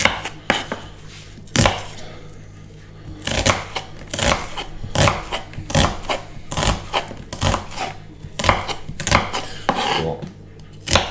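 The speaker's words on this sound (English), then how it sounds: "first thing to do, cut a couple of small onions" Knife chopping a couple of small onions on a board, a run of crisp, irregular cuts close by, some quick bursts and some spaced apart, with no talking.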